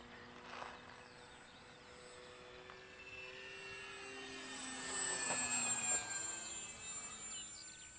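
A KI-61 Hien radio-controlled model aircraft flies outdoors on its maiden flight, its small motor a thin high whine that drifts in pitch and grows louder midway as it passes nearer, then fades slightly.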